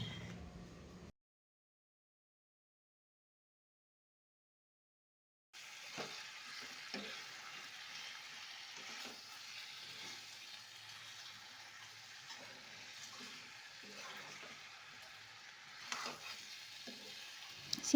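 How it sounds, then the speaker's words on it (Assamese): A pot of curry with onion, ginger-garlic paste, chili, bay leaf and spices simmers and fries with a soft, continuous sizzle after a few seconds of silence, with occasional stirring clinks near the end. "এনেকৈ আঞ্জাখিনি উতলি আছে আৰু ৰেডি হ'বই"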